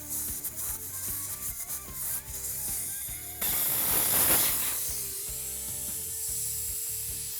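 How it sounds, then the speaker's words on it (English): Air rushes out of a vehicle tire with its valve core removed, a sudden loud steady hiss that starts partway through and slowly eases. "we'll let this air drain out till you can't hear any air leaking anymore"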